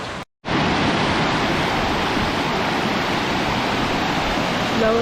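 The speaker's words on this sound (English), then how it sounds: "The water's moving pretty quick." Kaaterskill Falls waterfall and fast-moving water swollen by recent rain, a loud steady broadband rush close by after a brief cut at the start, constant throughout.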